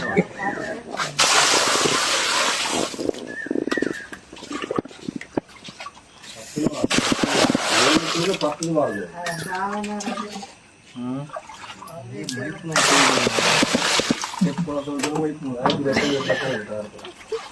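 Water poured and sloshed over freshly caught crabs being washed clean, in loud bursts of splashing that alternate with stretches of a person talking.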